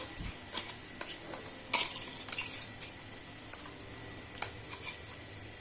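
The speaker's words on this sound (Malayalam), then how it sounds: "ഇത് നന്നായിട്ടൊന്ന് യോജിപ്പിച്ച് കൊടുക്കുക." Coconut paste being stirred into cooked mixed vegetables for a Kerala thoran, with soft scraping and light clinks of a spoon against the pan, scattered irregular strokes at close range, no voices.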